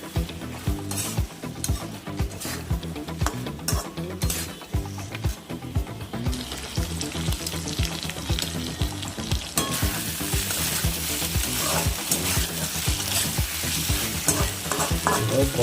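Curry with potatoes, cauliflower and carrots is stirred in a sizzling pan, the spoon scraping in a steady rhythm of repeated strokes over continuous close frying noise.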